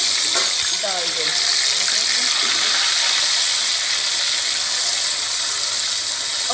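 Marinated chicken sizzling loudly in hot oil in a kadai, a dense continuous crackle and hiss close up, with faint clinks of a utensil.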